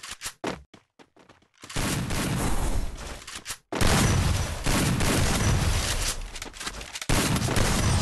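Gunfire in the Free Fire video game: a few quick sharp shots at the start, then long dense bursts of loud automatic fire broken by short gaps.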